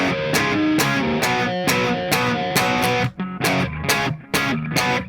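A distorted electric rhythm guitar chugs through the main riff in dense, loud strummed bursts, breaking briefly just past the midpoint before resuming, with no talking.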